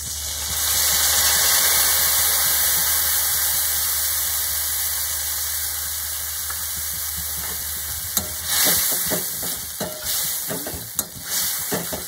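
Fried potatoes and sweet potatoes stirred in hot oil in a pan, a steady loud sizzle throughout, joined in the second half by scraping and clacking stirring strokes.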